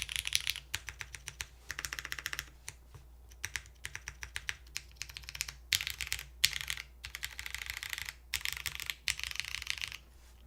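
Brisk typing nearby on a KC NO 1 1800 mechanical keyboard, sharp clicky keystrokes coming in rapid runs separated by short gaps.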